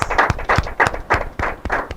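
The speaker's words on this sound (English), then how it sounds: "A big round of applause for both schools." An audience at an inter-school quiz and debate competition claps in a steady, even rhythm, the sharp hand claps close and fairly loud.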